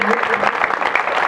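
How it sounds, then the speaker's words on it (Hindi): Brief burst of audience clapping for girls placed fourth in a village quiz competition, a short dense patter with voices mixed in. "तालियां बजा दे बच्चियों के लिए"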